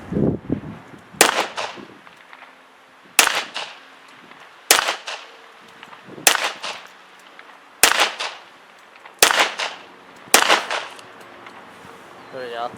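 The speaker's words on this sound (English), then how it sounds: "first shots going through the 1911" Sig 1911 Emperor Scorpion pistol fired outdoors, eight loud, sharp, evenly spaced shots roughly one to two seconds apart, each followed by a brief echoing tail.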